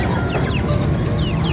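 Chickens cluck constantly at a busy Sunday bird market in Lahore's Shalimar Bagh. Many birds call at once in a dense, loud, unbroken chorus with no clear speech.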